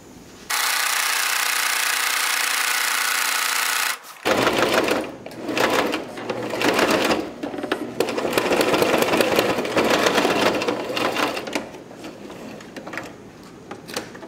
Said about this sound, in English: Now let's run it back through the machine at 3/4 of an inch